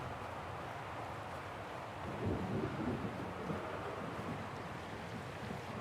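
Stormy weather from the video game Syberia: The World Before, a steady loud rush of wind and rain with a low rumble of thunder swelling in the middle, no voices.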